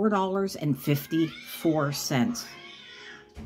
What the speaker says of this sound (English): that was my husband putting fighting cats on his phone for my cats to see what they would do